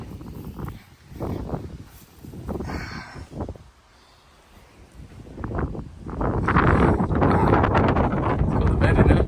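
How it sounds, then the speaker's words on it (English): Strong gusty wind buffets the microphone outdoors at a classic car barn collection, rumbling in uneven surges that swell loudest toward the end, with people talking intermittently underneath. "It's so windy. This place is such a wind trap."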